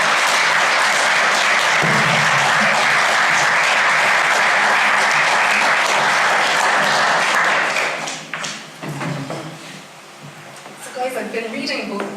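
An audience applauds to welcome two authors onto a stage, a full sustained round of clapping that fades out near the end as talking begins.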